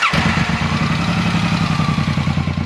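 A Suzuki M109 cruiser motorcycle engine with stock exhaust idles loud and close with a lumpy, rhythmic low throb and mechanical clatter, steady throughout.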